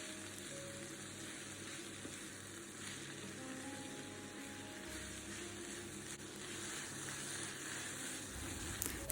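Chopped onions and ginger sauté with salt in a pan for a vegetable kurma, giving a faint, steady sizzle with soft stirring throughout and no talk.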